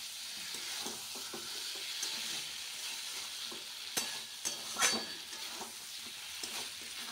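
Pointed gourd (potol) frying and stirred in spice masala for a potato-and-potol fish curry: a faint, steady sizzle with occasional scraping stirs and a few light clicks.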